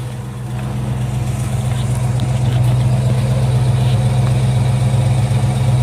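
A 1966 Ford Mustang A-Code with its stock exhaust idles steadily and close by, a smooth low rumble holding even throughout with no voices.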